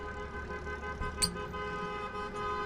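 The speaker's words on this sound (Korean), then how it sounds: "저 버스 진짜 오지게 시끄럽네" A bus passes outside, a steady low engine drone with a single short, distant horn toot in the middle, no talking.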